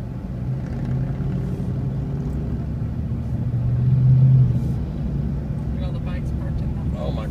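Steady road traffic rumbles continuously near the Sturgis motorcycle rally, a low dense drone that swells briefly midway and then settles, with no voices over it.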